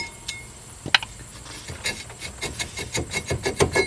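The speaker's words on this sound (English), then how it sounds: "take this rubber mallet and pound on it a little bit" Rubber mallet pounding on a tight front brake caliper bracket of a Mazda 3 during a rotor change, a few sharp knocks followed by a rapid series of thuds in a workshop.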